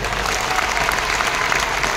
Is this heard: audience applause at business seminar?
yes